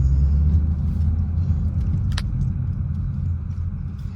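A car engine idles steadily in a dense, even low rumble. One brief metallic jingle cuts through partway along, and no one speaks.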